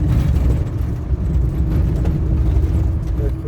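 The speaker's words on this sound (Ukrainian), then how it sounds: "Он на Range Rover поїхав." A Range Rover driving off, a low rumbling engine and road noise heard close and steady, with a few faint voices in the background.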